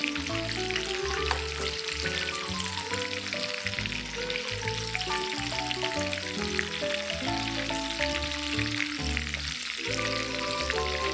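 Chicken snacks such as cheese balls, nuggets and fingers fry in hot oil with a steady, even sizzle that runs throughout, partly under loud background music.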